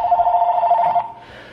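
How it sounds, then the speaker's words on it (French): Telephone ringing nearby with a loud electronic warble lasting about a second, then cutting off into quiet room tone. "le téléphone il a sonné"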